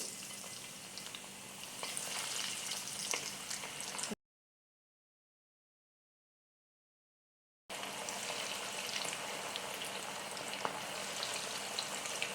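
Potato-filled bread rolls sizzle in hot oil over a low flame, a steady crackling hiss with faint stirring. The sizzle breaks off into silence midway, then resumes at the same level.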